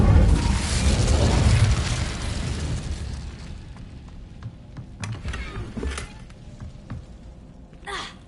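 Incendio fire spell blast in Hogwarts Legacy, a loud burst with a rushing whoosh that fades into crackles and scattered pops, ending in a sharper hiss.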